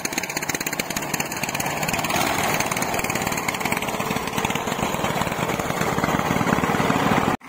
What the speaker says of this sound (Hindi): ये चल रहा अपना आयशर 485